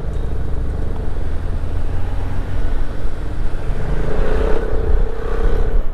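A steady, droning MP3 scooter engine runs throughout, loud and close, with a rough low rumble and a slight swell in intensity near the end.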